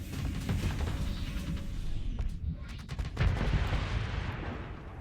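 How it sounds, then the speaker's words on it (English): Vulcan cannons in a space combat video game fire a dense, rumbling stream of rapid shots against a steady low roar of battle noise, loud and close throughout. "those Vulcan cannons are having no problem tearing that Afflictor up"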